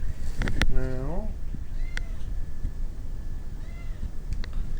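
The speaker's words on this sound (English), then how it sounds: "cat's making all sorts of noise" A house cat lets out a drawn-out, wavering meow close by, followed by a couple of fainter, shorter mews over a low room background, with someone talking intermittently.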